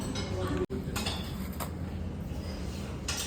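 Cutlery and dishes at a restaurant table as diners begin a meal of butter tandoori, paneer butter masala and mushroom masala: light, scattered clinks and scrapes over a steady background murmur.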